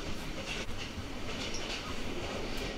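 A train on the Circle Line in Yangon rumbles along steadily, with a constant dense rolling roar and faint rattles throughout, no voices heard.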